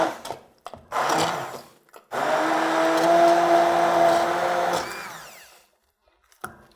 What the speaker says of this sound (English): with an immersion blender, you can control how far you go with the pureeing